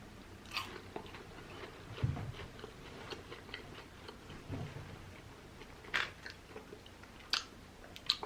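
Someone bites and chews Buffalo Wild Wings cheese curds up close, making quiet crunches and soft chewing sounds in irregular bursts against a low background.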